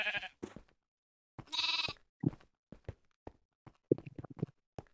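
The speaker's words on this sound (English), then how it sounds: "Come here, sheep." Sheep bleat in a Minecraft-style game in two short, quiet calls, followed by soft scattered clicks and steps with no talking.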